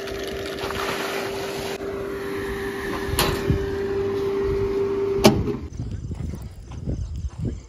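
A pump motor hums steadily with a constant tone for about five seconds, then cuts off and leaves quieter outdoor noise.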